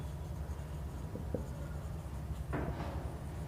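Soft pen-on-paper writing while working a Class 10 maths problem on real numbers, faint scratchy strokes under a steady low background hum.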